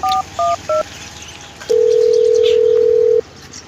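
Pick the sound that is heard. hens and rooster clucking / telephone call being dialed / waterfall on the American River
telephone call being dialed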